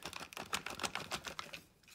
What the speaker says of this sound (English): press on both sides of the hose,